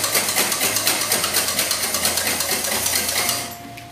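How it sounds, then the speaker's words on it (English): A whisk beats rapidly boiling water in a pot while poached eggs are being made, making quick, even, rhythmic strokes up close that stop abruptly near the end. "I'm gonna grab your whisk now and whisk this."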